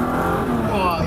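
A Ferrari 512 BBi engine pulls hard at full throttle from inside the cabin, a loud, steady roar that climbs slightly in pitch through the short burst.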